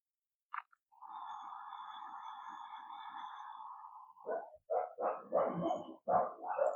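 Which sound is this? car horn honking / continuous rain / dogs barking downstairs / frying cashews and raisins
dogs barking downstairs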